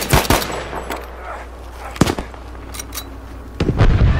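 Gunfire in the video game Battlefield 5: sharp bursts of shots open the clip, followed by isolated loud reports around the middle and a cluster of rapid shots near the end, over a steady low background rumble.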